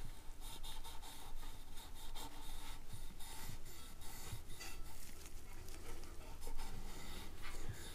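Stained ebony dust is rubbed into a violin fingerboard under the strings, making a soft, continuous scrubbing and rubbing with quick, irregular back-and-forth strokes, close and fairly quiet, with no talking.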